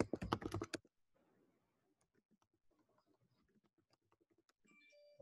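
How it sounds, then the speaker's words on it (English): Faint, close tapping of keys on a computer keyboard, an irregular run of light clicks after a short burst of louder noise at the start. "Let me type."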